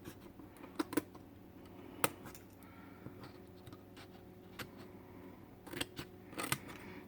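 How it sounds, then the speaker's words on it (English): Scissors snipping the hinges of a paper bag album, a quiet series of sharp, separate cuts scattered irregularly over a soft background. "I'm just going to snip off at that same angle"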